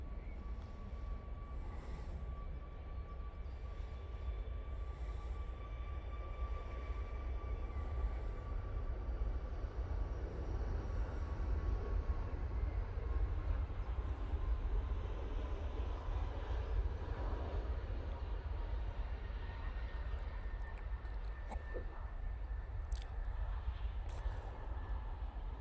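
A Boeing 737 MAX 8 airliner takes off at Manchester Airport, heard as a steady, loud, broad engine roar that holds for the whole stretch with a faint whining tone on top.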